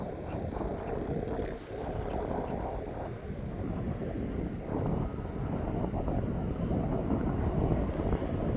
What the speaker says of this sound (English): 777 DHL is now making its way across into DHL.